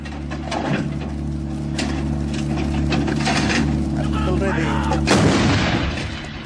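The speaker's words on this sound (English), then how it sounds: "now fire 3 rounds in area diamond" Artillery gun firing a three-round burst of high-explosive shells, heavy booming discharges and mechanical clatter over a continuous low hum, with a sharp loud blast near the end.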